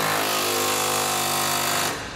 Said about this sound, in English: Now we're going to tighten up the remaining bolts here on our rear crossmember.